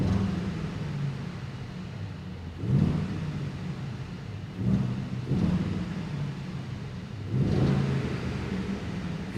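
A Mercedes-AMG GLE63 S Coupe V8 engine revs in three rising bursts over a steady running rumble, loud and close with no talk.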